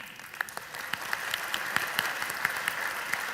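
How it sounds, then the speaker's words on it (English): A crowd applauds at the D.I.C.E. Awards, with continuous clapping and occasional sharper individual claps standing out over a steady wash of hands. "Everyone give yourself an awesome round of applause."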